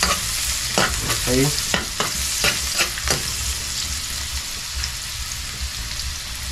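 Garlic sautéing in hot oil in a pan for Filipino caldereta, heard as a loud, constant sizzle with spatula scrapes and stirring taps early on; one brief word is spoken.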